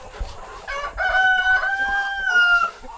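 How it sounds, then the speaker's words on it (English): A homestead rooster crows loudly and close by, one long drawn-out call with a rising start and a sustained tone, while other fowl cluck faintly in the background. "Well, the rooster started that."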